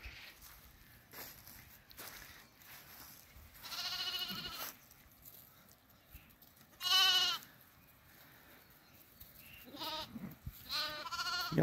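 Sheep and lambs in a herd give several separate bleats, some near and loud and some fainter, with quiet shuffling and footsteps in the pauses.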